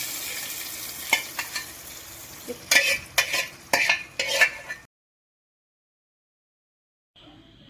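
Chicken curry stirred in a pan, with a series of close scraping and sizzling strokes against the pan bottom that stop abruptly into silence, followed by a faint sizzle returning at the end.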